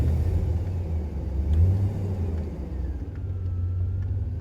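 A car engine free-revs with no load, a low rumbling roar that swells and eases over a few seconds, heard close and without talk.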